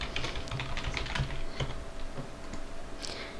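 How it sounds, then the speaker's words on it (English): Quick, uneven keystrokes clatter on a computer keyboard at a desk, a busy patter of close, crisp clicks in irregular bursts with a few brief pauses and nobody speaking. "you are busy typing away"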